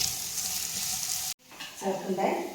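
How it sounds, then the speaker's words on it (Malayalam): Sliced onions fry in oil in a pan for egg chapathi noodles, giving a steady broadband sizzle that cuts off abruptly partway through. Quieter stirring and cooking noise follows. "നമ്മളിതാ സവാള ആഡ് ചെയ്യാൻ പോവാണ് ഇനി ഇതൊന്ന് മൂത്ത് വന്നതിന് ശേഷം നമ്മൾ തക്കാളി ആഡ് ചെയ്യും"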